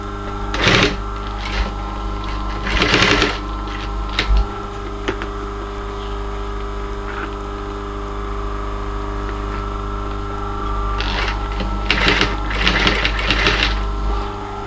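A sewing machine stitches a homemade leather tote bag in short bursts of rapid mechanical clatter, separated by pauses, over a steady low hum nearby.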